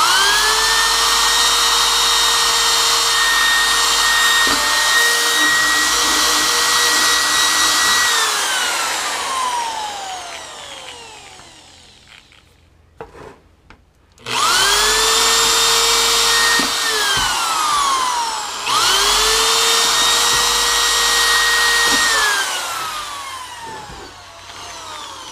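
An electric drill whines up to speed and bores holes in a bucket, runs for several seconds, stops, then starts again for two more long bursts with a brief pause between.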